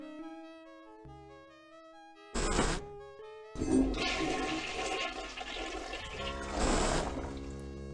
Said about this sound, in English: So I need to flush 3 times.